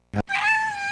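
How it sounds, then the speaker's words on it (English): A cat meows close by in a bedroom at night: a short, sharp cry followed by a long, drawn-out, loud wailing meow, with no talking. "That's the sound of your in-law's cat perched over your bed at 3 a.m."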